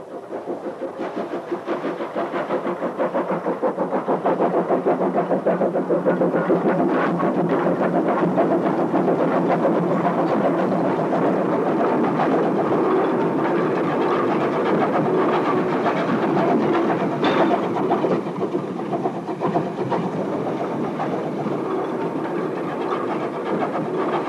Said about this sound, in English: The Peckett Greenhithe coming out with wagons round a severe curve and up a very steep incline.